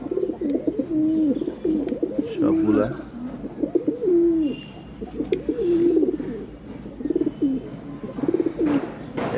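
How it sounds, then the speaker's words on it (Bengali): Pigeons in a loft coo in repeated low, throaty rolls, close and steady throughout, while someone talks over them. "এখানে আমার মাদি কবুতরগুলো আছে এখানে।"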